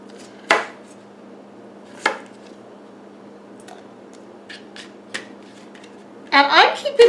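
A kitchen knife halving cleaned, skin-on potatoes on a cutting board: a few sharp, close chops spaced seconds apart, then a brief clatter at the end.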